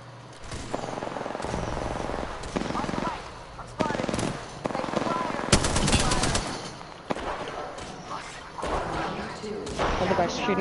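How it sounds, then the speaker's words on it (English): Gunfire from another player in the Apex Legends video game, heard as bursts of automatic shots at mid distance, mixed with game sounds and voices talking over it. "Other guy's shooting."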